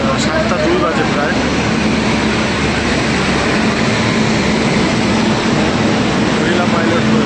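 A passenger train arriving at a station platform, with a loud, steady rumble and roar of the carriages running close by throughout, and crowd noise and voices mixed in.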